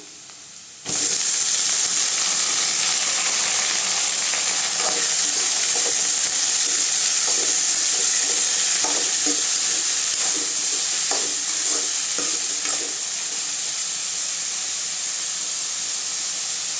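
Bottle gourd hits a pan of sautéed onions and sizzles loudly from a sudden start, the steady frying hiss broken by repeated scraping stirs of a spoon, close and without talk.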